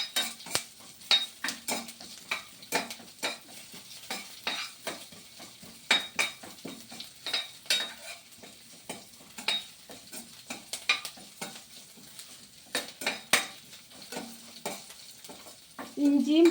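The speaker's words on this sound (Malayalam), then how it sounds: "ഞാനിപ്പോൾ ഇവിടെ ഇങ്ങനെ വഴറ്റുകയാണ് ചെയ്യുന്നത്" Ginger and garlic being sautéed in a pan, a steady sizzle broken by frequent scraping and clinking strokes of a spoon stirring against the metal, close and continuous with no talking.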